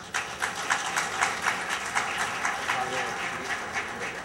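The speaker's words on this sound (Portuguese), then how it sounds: "Uma salva de palmas." At the opening of a seminar on democracy, law and public management, an audience breaks into sustained, moderately loud clapping in a hall, with a voice briefly audible beneath it.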